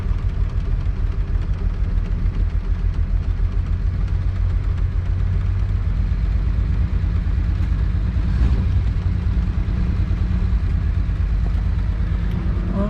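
A 1962 Willys Utility Wagon, revived after sitting for 28 years, idles slightly low and unevenly, a continuous close engine rumble with no voices over it.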